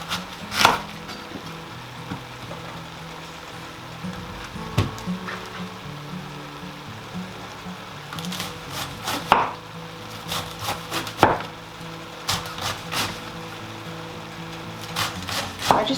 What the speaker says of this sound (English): I just go ahead and slice the wedges, and then I don't want to have massive pieces of cabbage